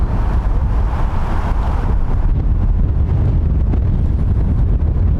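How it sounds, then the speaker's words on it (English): Strong wind buffets the microphone across an outdoor soccer field during a U17 youth match, a loud continuous roar with no pauses. "the wind is really picked up"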